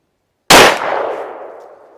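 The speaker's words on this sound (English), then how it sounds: "first up, Buffalo Bore 124 plus P plus penetrator out of the Glock 19" A single loud gunshot from a Glock 19 firing Buffalo Bore 124 +P penetrator 9mm ammunition: one sharp crack followed by a decaying outdoor echo, with no other sounds.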